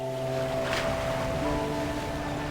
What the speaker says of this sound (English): It's the waves.